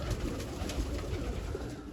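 Pigeons coo steadily in a loft holding both flying birds and larger fancy pigeons, the low soft calls layered and overlapping close by against a constant background hum.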